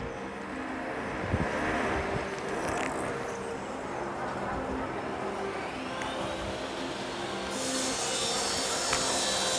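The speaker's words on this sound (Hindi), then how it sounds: "मशीन के क्रेन लगा करके यहाँ पर ड्रिलिंग प्रक्रिया की जा रही है" A crane-mounted drilling machine bores holes into walls on a construction site along the Shri Ram Janmabhoomi path in Ayodhya, giving a steady loud grinding roar throughout with faint background voices.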